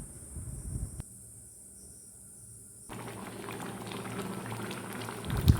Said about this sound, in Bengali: জল দিয়ে আবারও ভালো করে নাড়িয়ে নিয়ে সেটাকে কিছুক্ষণ আমি ফুটতে দেবো